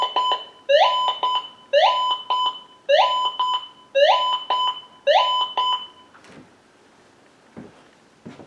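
A Gold Monster 1000 metal detector gives six repeated rising electronic target tones in a steady rhythm, loud and close, followed by a quieter stretch with faint clicks and handling noise.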